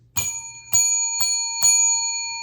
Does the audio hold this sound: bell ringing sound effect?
yes